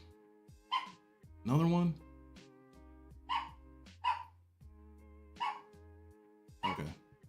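A pet dog barks repeatedly indoors at a home desk, several sharp, loud barks in uneven bursts with a short word spoken between them.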